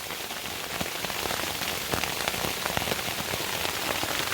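Hail pelting a backpacking tent in a thunderstorm, a dense, steady roar of countless small impacts drumming on the fabric close by, with no talk over it.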